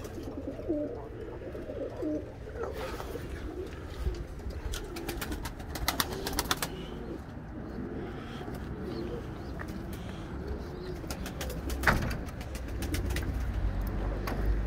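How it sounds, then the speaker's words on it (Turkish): Soft pigeon cooing from a flock, murmuring steadily under faint outdoor background noise and occasional fluttering or clatter. "Arkadaşlar Nazım'ın kuşlarına bakıyoruz şu anda"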